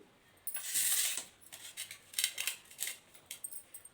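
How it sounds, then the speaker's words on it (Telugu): Ripe tomatoes chopped with a knife for an eggplant curry, a run of sharp, close cutting strokes on a board, irregular and bright, with no one talking. "రెండు టమాటాలు తరుగుతున్నాను"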